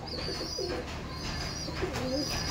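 Beldanga green pigeons, a fancy breed kept in pairs at a home loft in Murshidabad, give soft low coos in two short phrases over a steady background hiss, with faint chirps above.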